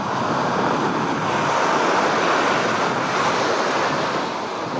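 Water waves wash and splash in a continuous loud roar, with wind buffeting the microphone and no voices.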